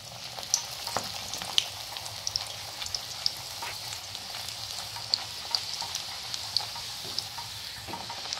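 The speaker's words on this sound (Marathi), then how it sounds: "दोन्ही साइडनी व्यवस्थित आपण पुऱ्या तळून घेऊया।" Methi puris deep fry in hot oil over medium heat, giving a soft continuous bubbling sizzle dotted with small crackling pops.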